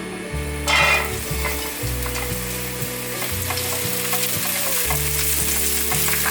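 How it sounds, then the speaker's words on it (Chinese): Diced celery stir-fries in a little hot oil in a wok with a loud, continuous sizzle and steady stirring scrapes. A sharp flare of crackle comes early, and there is no talking. "西洋芹炒香， 大约炒了30秒左右。"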